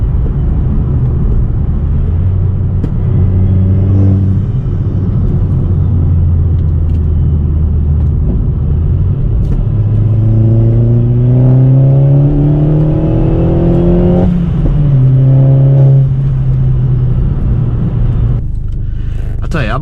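An Opel Corsa OPC/VXR with a hybrid turbo engine revs through the gears on the road, loud rising and falling engine tones with rumbling road noise and a voice talking over it.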